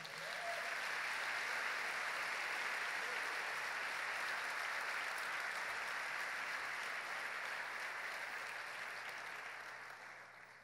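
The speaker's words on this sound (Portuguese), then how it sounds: "Aplauda o Senhor bem forte" A church congregation applauds the Lord with loud, dense, sustained clapping that holds steady for about ten seconds before tapering slightly at the end.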